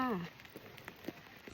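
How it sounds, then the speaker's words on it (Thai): Rain falls on a visit to Phanom Rung sanctuary in Thailand, a faint, steady patter with scattered drops. A voice is heard briefly at the start. "ทุกคนมาถึงฝนก็ตกนะคะ"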